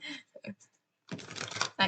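Deck of tarot cards being shuffled by hand, with a few quick riffling bursts and flicks, then a longer dense flutter of cards and a final short burst, close and crisp.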